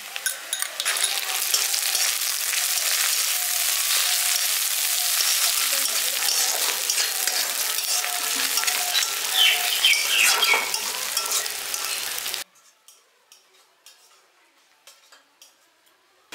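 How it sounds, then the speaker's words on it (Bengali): Chopped ginger and onion fry in ghee for a village-style paneer and green peas pilau, giving a steady loud sizzle with stirring scrapes and clinks that stops abruptly near the end, leaving faint ticks. "এখানে আদাটা আর পেঁয়াজটা আমি হালকা করে ভেজে নিয়েছি ঘিয়ের মধ্যে।"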